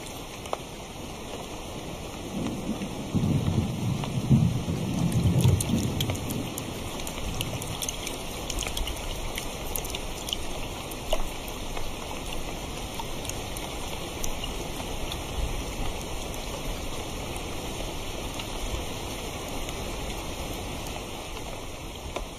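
Rain falls steadily in a downpour over swampy hollows, a continuous hiss of drops on water and foliage with a brief heavier gush early on, alongside a thin, constant insect-like whine.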